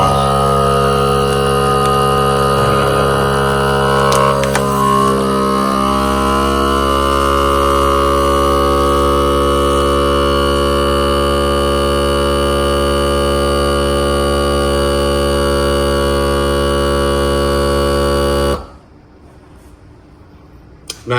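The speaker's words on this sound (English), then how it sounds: "I'm going to close it, click it, and then I'm going to hit vacuum and seal." A vacuum sealer runs on a bag of fish with a loud, steady motor drone whose pitch shifts slightly partway through, then cuts off abruptly near the end and leaves near silence.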